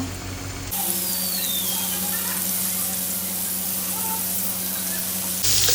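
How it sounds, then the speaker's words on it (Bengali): Fish sizzling in hot oil in a pan, a steady, dense frying hiss that holds evenly for several seconds with no talk. "মাছটা ভেজে নেব।"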